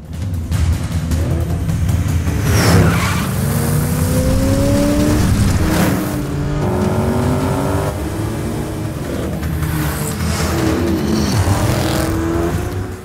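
A rare sports car accelerates hard and skids during a movie car chase, engine revving in rising sweeps with tire screeches, loud and close, pitch climbing and dropping repeatedly.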